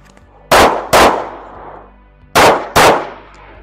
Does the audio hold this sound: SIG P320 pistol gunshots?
yes